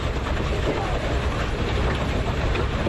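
A Reeves steam engine rolls along in a parade, giving off a loud, even mechanical roar and clatter up close that stays steady and smooth for the whole stretch.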